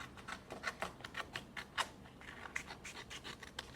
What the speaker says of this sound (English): So now we're cutting with our scissors.